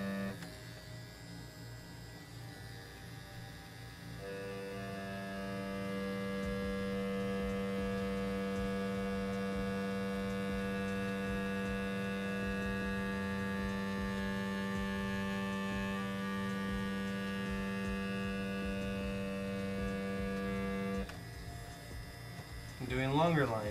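A tattoo machine buzzes steadily while long lines are tattooed, a constant close electric hum that starts after a few seconds, holds for about fifteen seconds and then cuts off, with quiet background sound around it.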